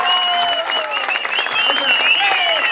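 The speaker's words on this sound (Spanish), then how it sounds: "que se escuche nuevamente el fuerte aplauso" Loud, steady applause from a crowd at an outdoor kiosk concert by a mariachi band in Cuautla, dense clapping throughout with cheering and shouted voices on top.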